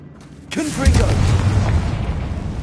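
A Confringo fire spell is cast in Hogwarts Legacy, bursting into a loud, booming blast that swells suddenly and then rumbles on with a lingering roar of crackling debris.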